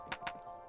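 Gold coins drop in the video game Kingdom, two quick bright metallic clinks in rapid succession, followed by a thin high shimmer over a quiet musical bed.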